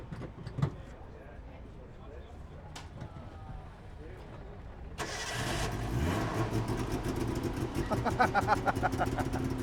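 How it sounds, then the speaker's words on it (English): A 1977 Suzuki LJ50 with a three-cylinder 2-stroke engine cranks and fires into a buzzy, rapid idle. Quiet background comes first, then the engine catches about halfway through and keeps running steadily and close. "They tell us this has a 2-stroke engine and we have to hear it start."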